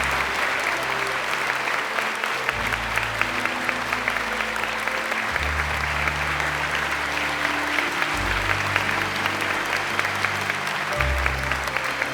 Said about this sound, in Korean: 힘찬 감사의 박수를 올려주시기 바랍니다.